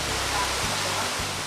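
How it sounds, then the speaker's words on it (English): Sayao Falls, a waterfall deep in a valley in Negros Oriental, pours down into a basin of water as a steady, dense roar of rushing water, close and constant with no voices. "there is a place where the waterfall dances."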